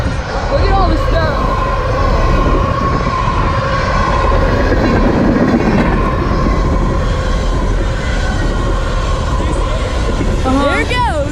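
A BNSF freight train rolls past steadily and loudly, its continuous rail rumble and wheel noise filling the scene, with people talking nearby throughout.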